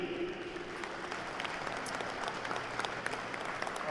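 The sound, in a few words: audience applause for host committee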